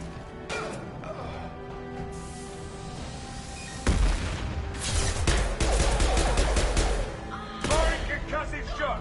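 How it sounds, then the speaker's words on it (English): Bursts of gunfire and heavy concussive blasts from a Mass Effect firefight while recruiting Archangel, with a loud impact near four seconds followed by sustained rapid shooting, faint background speech. "Firing concussive shot!"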